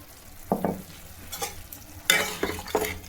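Ash gourd simmered with half a cup of milk and mustard paste being stirred in a pan, with several soft scraping strokes and wet sloshing bursts over a faint background, no talking.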